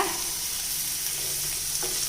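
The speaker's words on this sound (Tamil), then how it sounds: "இப்போ நறுக்கி வச்சுருக்க தக்காளி சேர்த்துடலாங்க" Steady, loud sizzling of chopped tomatoes frying in a pan for millet upma, a continuous hiss with a faint scrape of stirring near the end.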